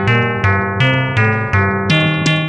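Electronic step sequencer scanning at two synchronized rates, a repeating series of bright synth notes stepping through pitches while a lower tone advances one step each time the faster pattern completes its eight-step cycle, steady and close.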